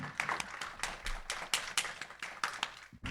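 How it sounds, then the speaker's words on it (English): A small audience applauds panelists at a discussion event, sparse and fairly quiet, with distinct individual claps standing out in an uneven rhythm rather than a dense roar. "Let's give a big round of applause to our brilliant panelists"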